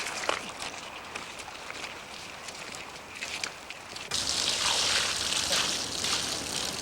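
Water is poured from a bucket onto a patch of dirt outdoors. After a quieter stretch of faint ambient noise, a louder broadband splashing gush starts partway through and continues to the end.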